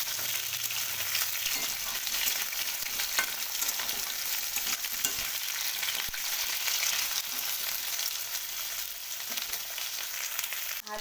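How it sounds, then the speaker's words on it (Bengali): Potatoes and pointed gourd fry in hot oil in a pan, giving a steady, loud broadband sizzle with a scraping spatula stirring through it for the whole stretch, no voices. "এবার খুব ভালো করে নাড়াচাড়া করে আলু পটলগুলি ফ্রাই করে নিতে হবে।"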